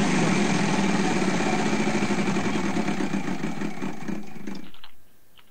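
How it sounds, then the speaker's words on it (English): A Wheel of Fortune game show wheel spinning, making a dense run of rapid clicks that continues steadily for several seconds before it stops abruptly. "All right, spin the wheel."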